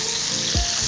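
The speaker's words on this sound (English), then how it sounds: "Layer the potatoes in the bottom, alternating some of them with some sweet white onion." Sliced potatoes hit a hot pan in a single loud hiss that settles into a steady close sizzle, with no voices over it.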